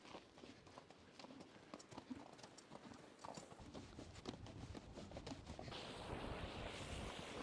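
Horses walk on uneven ground in the Mongolian wilderness, producing a series of irregular hoof clops close by, with wind buffeting the microphone and growing louder toward the end.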